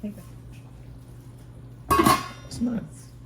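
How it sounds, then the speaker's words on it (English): A lid goes onto a pan of sautéing green beans, a short metallic clatter and clink, then a second softer rattle, under a speaking voice with a faint background hum. "I'm going to put a lid on it."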